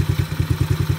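Small engine of a Chinese ATV idling, a steady low chugging pulse of even putts, close and loud, with the rhythm slowing slightly as the revs drop.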